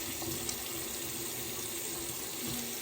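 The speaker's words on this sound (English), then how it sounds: "do a quick rinse." Tap water runs steadily into a sink while a razor is rinsed under it, a continuous close hiss with no pauses.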